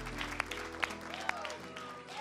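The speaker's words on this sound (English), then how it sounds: "just clap right now" Audience applause in a live church-style broadcast setting, a steady wash of clapping with a few sharper claps standing out, mixed with a faint voice and a sustained tonal background.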